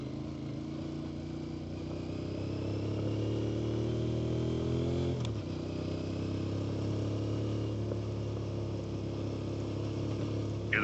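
A few dirt and sport motorcycles ride past near a national forest campsite by the water, engines droning steadily at moderate distance for about eleven seconds with a slight swell midway.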